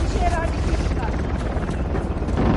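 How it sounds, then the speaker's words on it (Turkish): A helicopter in the video game Uncharted drones loudly and continuously with a thick rotor roar, while voices talk over it. "O helikopteri indirmemiz lazım."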